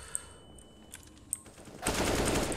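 Automatic rifle fire in Counter-Strike on the Inferno map, a few faint isolated shots and then a dense close burst of gunfire in the last second, no talk.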